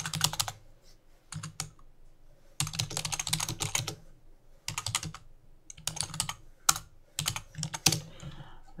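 Quick bursts of keystrokes on a computer keyboard as a short note is typed, close and clear. The clicks come in clustered runs with brief pauses between them in a quiet room.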